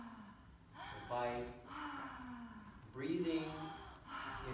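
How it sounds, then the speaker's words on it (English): During a biodynamic breathwork session, a person breathes in a connected way through the mouth, with audible gasping inhales and sighing exhales repeating close up in an uneven rhythm. "breathing in a connected way through the mouth"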